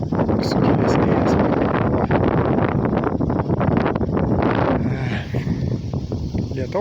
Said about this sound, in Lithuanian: Šiandien va jau sukilo vėjas.